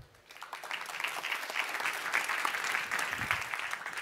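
Audience applause for speakers on a biotech conference stage swells after a brief quiet start into sustained, fairly loud clapping from a sizable crowd, steady to the close.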